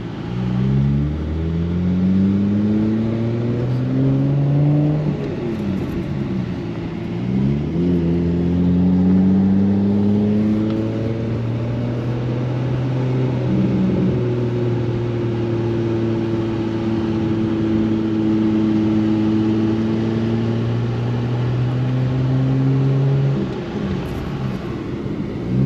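A Nissan R34 GT-R Midnight Purple III V-spec engine climbs steadily in first gear, loud and close, its rising whine sweeping upward in repeated pulls with brief dips between, no talk over it.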